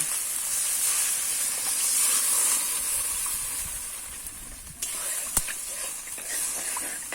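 Water splashed into spices frying in a pan for a Bengali fish curry, a loud, steady hiss and sizzle filling the whole stretch, with a sharp click partway through.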